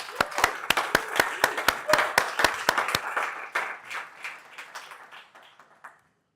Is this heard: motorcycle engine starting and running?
no